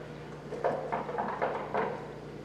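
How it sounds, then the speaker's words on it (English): Several soft knocks sound on a door in an uneven series of about five muted taps, close and quiet over a low background hum. "Soon afterwards, there was a gentle knock at the door."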